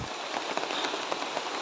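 Heavy rain growing stronger, a dense steady hiss of drops pattering on surfaces, continuous and close with no voices.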